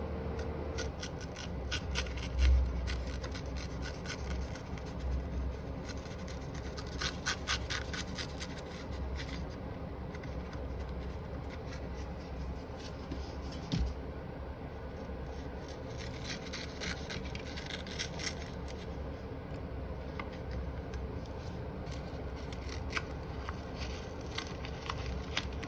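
Fresh plaster is cut out around electrical sockets on a rolled-on plastered wall, giving a quiet, steady close scraping and rasping that runs on with a few louder knocks.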